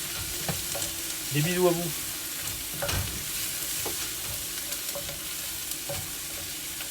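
Food left to brown in a frying pan, a continuous low sizzle with scattered stirring clicks and scrapes, and a brief spoken phrase over it.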